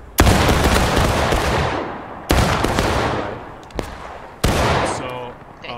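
Musket volleys in the Civil War video game War of Rights, three loud, close rippling bursts of massed gunfire, each rolling off into a long fading echo, with a smaller crack between them.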